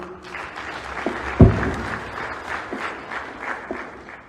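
Audience applause at a university event, a sustained, fairly loud wash of many hands clapping from a seated crowd, with a sharp thump partway through.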